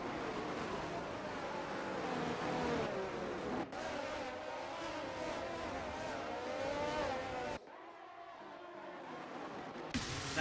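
A Formula 1 car engine roars in the F1 23 video game during a league race at the Azerbaijan circuit. It revs high with rising and falling pitch sweeps through gear changes, then cuts away abruptly near the end.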